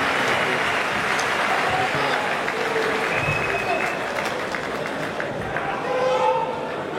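At a combat sports bout, a crowd applauds the fighters with dense clapping and crowd noise throughout, and a voice speaks over it.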